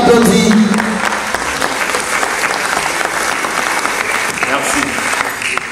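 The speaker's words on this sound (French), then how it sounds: "On applaudit" An audience at a Congolese cinema awards ceremony breaks into loud, dense applause that holds steady throughout, with a voice over a microphone briefly heard near the start.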